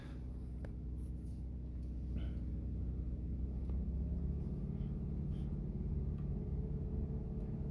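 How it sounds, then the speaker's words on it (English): Steady low rumble of a car engine idling in reverse gear while backing down a driveway, a car that had trouble shifting into first, with a few faint clicks over the continuous hum. "Got the car into reverse."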